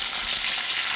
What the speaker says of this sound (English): I didn't think about the sizzling interfering with the microphone